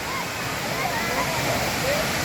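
Jed Sao Noi waterfall in Thailand pours in a steady, dense rush of falling water, constant and fairly loud, with no clear speech over it.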